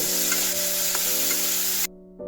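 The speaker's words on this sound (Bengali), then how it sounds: "এই তেলেই ভাপানো ফুলকপিগুলো ভেজে নেব সামান্য একটু হলুদ গুঁড়ো দিয়ে দেবো ভালো করে ফুলকপিগুলো ভেজে নেব" Steamed cauliflower fries in oil with a pinch of turmeric, a loud close sizzle that stays steady and then drops away abruptly near the end before faintly returning.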